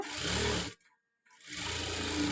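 Sewing machine stitching a cross belt, three layers fed together, running in two loud steady bursts separated by a brief pause, with no voices.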